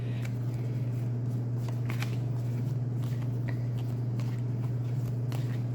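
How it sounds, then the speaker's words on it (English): Cards being shuffled close by, soft repeated riffling and shuffling over a constant low hum, with no talking. "So let's get these cards shuffled up for you."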